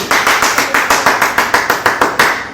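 Sharp, cracking single hand claps at a seminar ring out in a steady, evenly spaced series of about a dozen, loud and close with no talking.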